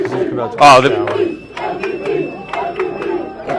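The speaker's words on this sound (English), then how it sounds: "I hear them chanting MVP." A large outdoor crowd at a World Series victory celebration cheers and chants MVP in rhythmic bursts, loud and close, with voices and shouts mixed throughout.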